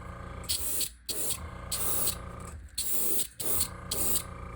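A spray gun hisses paint onto a TWP 100 in several short bursts separated by brief pauses, close and fairly loud, with a faint mechanical rattle underneath.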